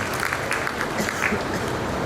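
An audience at a Durga Puja cultural program claps together, a thick wash of applause with a few sharper individual claps poking through, fairly loud and continuous for a couple of seconds.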